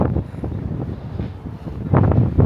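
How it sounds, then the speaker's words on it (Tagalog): Strong, cold wind in Odaiba, Japan buffets the microphone in steady low rumbling gusts, growing heavier toward the end, with no voices. "Lakas ng hangin."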